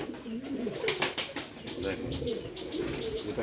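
King pigeons cooing in a village loft, low throaty coos rolling on and off at close range beneath a voice.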